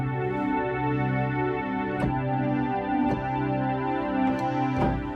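Roland JX-8P 1980s analog synthesizer playing sustained fifths with portamento, a dense continuous pad with a few sharper attacks marking new notes, heard alone and fairly steady.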